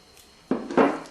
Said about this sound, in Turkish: Ezmeye devam ediyoruz.